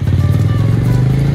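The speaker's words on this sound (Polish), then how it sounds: "Kolega pojechał właśnie z motocyklem." A touring motorcycle's engine runs loud and close with a pulsing, throbbing beat on a winding mountain road in Bulgaria. Its rhythm stays steady throughout, with no fade as it pulls away.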